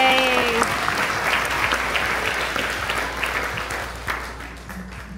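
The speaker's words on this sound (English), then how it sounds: "So give yourselves a round of applause for that." Women at an empowerment brunch give themselves a round of applause: a full, steady burst of clapping from a close crowd that eases slightly toward the end.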